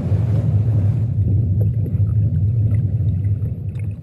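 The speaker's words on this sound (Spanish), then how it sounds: "Los nuevos balleneros están equipados con motores." Motor-driven whaling boat at sea in the Arctic, its engine a steady low droning hum with wind and water noise over it, constant and fairly close throughout.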